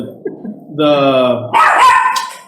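Dogs bark and whine in a nearby room, a couple of loud, strained vocal bursts mixed with voices talking.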